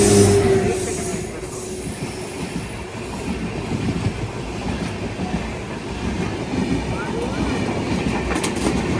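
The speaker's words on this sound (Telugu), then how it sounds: "Vijayawada Lingampalli intercity express" Vijayawada–Lingampalli Intercity Express passing close by at a level crossing, its wheels giving a steady rumble and rhythmic clatter with faint squeals throughout.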